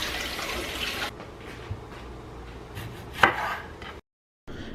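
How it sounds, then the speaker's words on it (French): Vegetables are cut on a board for a salad: crisp knife chops and scraping with a sharp knock near the end, then a brief silence, heard close in a quiet kitchen. "je prends le temps de laver chaque légume et bien découper"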